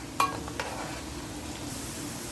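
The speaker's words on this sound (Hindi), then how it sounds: "2 अदद प्याज लेकर वो इसमें डाल देंगे। इसको मीडियम फ्लेम पे हम फ्राई करेंगे 5 मिनट्स तक" Chopped onions frying in oil over a medium flame, a low, steady sizzle with a couple of quick clicks near the start.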